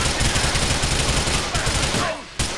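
Dense, continuous gunfire in the video game GTA IV, rapid overlapping shots filling the scene at close range without pause before a brief drop near the end.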